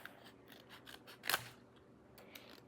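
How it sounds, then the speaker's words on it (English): Scissors snip off leftover paper edges from a folded craft blind bag, giving soft crinkles followed by one sharp, close cut near the middle and a fainter rustle afterward. "if you have any leftovers, just cut the leftovers off"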